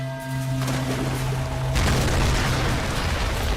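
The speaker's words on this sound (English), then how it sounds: "Another explosion right next to us." A heavy, loud explosion erupts in Tomb Raider (2013) over a humming game background, bursting in with a deep boom and a rumbling, crackling roar that lingers to the end.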